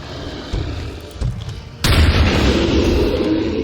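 A close-range shotgun blast in the video game XCOM 2 Long War of the Chosen, a sudden loud boom that cuts through a low rumbling game backdrop and leaves a sustained heavy roar afterward.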